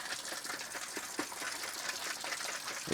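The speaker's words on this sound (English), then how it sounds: "And then shake it some more." Water sloshing inside a protein shaker bottle with a metal whisk ball being shaken for cleaning, a continuous swishing, rattling churn at moderate level without talk.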